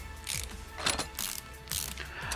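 Mechanical ratcheting as U-bolts come off a rear axle's suspension in Car Mechanic Simulator 2018, several quick clicking bursts in an uneven rhythm, fairly quiet and close.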